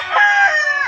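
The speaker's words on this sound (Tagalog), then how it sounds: "Kumakain pa yung mga alaga nating manok." A rooster crows loudly and close by in a single sustained call, set among backyard chickens being kept in a small coop.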